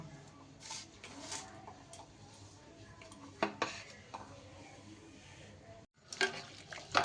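Small cut cauliflower stalks are washed by hand in a kitchen bowl, producing close, intermittent clinks, rustles and sloshing knocks in short bursts, separated by quieter pauses.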